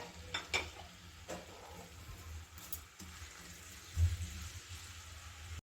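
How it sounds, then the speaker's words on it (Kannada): Onions frying with cumin in hot oil for a samosa filling: a faint, steady sizzle with occasional soft stirring scrapes and knocks against the pan. "ಈರುಳ್ಳಿನ ಚೆನ್ನಾಗಿ ಗೋಲ್ಡನ್ ಬ್ರೌನ್ ಬರೋವರೆಗೂ ಫ್ರೈ ಮಾಡ್ಕೋಬೇಕಾಗತ್ತೆ"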